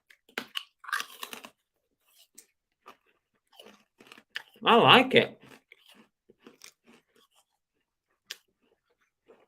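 Someone crunches and chews a crunchy sweet bar in a sharp, loud burst of crisp bites near the middle, with scattered quieter chewing and chatter around it.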